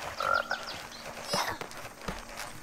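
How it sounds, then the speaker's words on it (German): A toad croaks repeatedly in the video game Sackboy: A Big Adventure, a run of close, fairly loud croaks and throaty calls over light game background sound, with no talking. "du hast wieder gerülpst, aber das ist eine Kröte."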